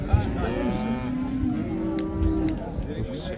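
Cattle at a livestock market, with a cow's drawn-out moo rising over a busy crowd and nearby people talking.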